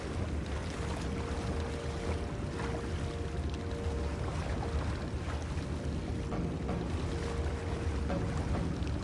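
Rowing boat paddled quietly across water in Red Dead Redemption II, a steady wash of water and soft wind noise throughout, with no distinct strokes standing out.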